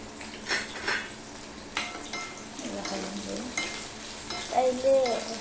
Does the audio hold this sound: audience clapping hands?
no